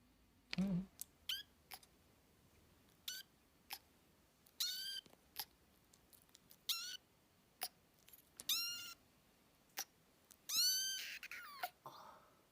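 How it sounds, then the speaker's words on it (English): A cat giving very soft little meows, a series of faint, high, brief calls spaced irregularly, with a few longer ones near the end and quiet in between. "It's very, very soft little meows."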